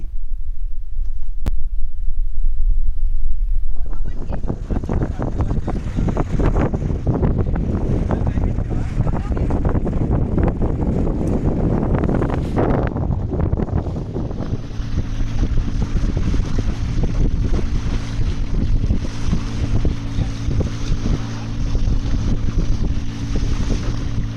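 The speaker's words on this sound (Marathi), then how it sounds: "बोट अगदी जोरात देवबागच्या दिशेने चालली आहे" A motorboat speeds from Bhogave beach toward Devbag beach, its engine a loud, steady roar with water rushing and heavy wind buffeting the microphone throughout, continuous and close.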